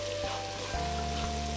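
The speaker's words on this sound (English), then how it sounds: "Give it a good stir." Green peppers and other vegetables sizzling as they are stirred in a frying pan for a Nigerian-style fried vegetable dish, a steady close hiss with soft scraping running throughout.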